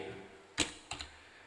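Keys clack on a computer keyboard in a quiet room: a few separate, sharp taps spaced apart, close and soft, with no voices.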